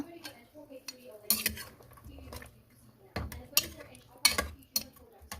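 Potatoes seasoned with pepper are stirred in a pan, giving a few loud metallic scrapes and clinks of a utensil against the pan between quieter stretches, with a faint sizzle underneath.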